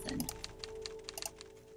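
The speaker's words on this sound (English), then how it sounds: "It's the sound of typing." Keyboard typing in the video game Nancy Drew: Treasure in the Royal Tower, a quick run of light clicking keystrokes over a steady electronic hum, fairly close and moderately quiet.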